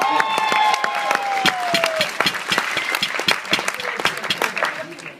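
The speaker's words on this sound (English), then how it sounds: "Let's give them a round of applause." Wedding guests break into applause after a best man's toast, a close, loud burst of many hands clapping that gradually thins into scattered claps, with a few voices and a whistle over the top.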